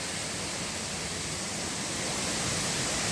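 Changge Jharana, a hidden waterfall near Banepa, roars as a steady, dense rush of falling water, loud and close, with no break.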